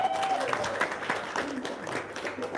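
Audience applause at an Islamic religious gathering in Indonesia, a steady wash of clapping at moderate level lasting a couple of seconds, with voices mixed underneath.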